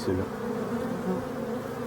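Black honeybees swarm around their hive, producing a dense, continuous close-up buzzing drone, with a brief spoken word from a voice nearby.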